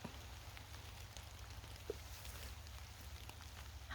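Light rain patters softly and steadily with occasional individual drops in a Swedish forest, fairly quiet and distant, over a low background hum.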